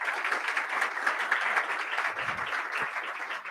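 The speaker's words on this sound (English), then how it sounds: "Please give him a big round of applause." An audience at a national youth pitch competition gives a burst of applause for a jury member, a steady dense clapping at moderate distance that holds for a few seconds with no voices over it.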